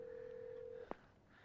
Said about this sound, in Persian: دکتر این شماره رو بگیر.